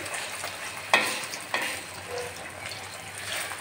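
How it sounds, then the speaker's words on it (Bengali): Egg frying in hot white oil in a kadai, a steady soft sizzle with two sharp crackling bursts as it hits the pan, close and alone without talk. "ডিমটা আমি কড়ার ভিতর ঢেলে দিয়ে ভাজি করে নিচ্ছি।"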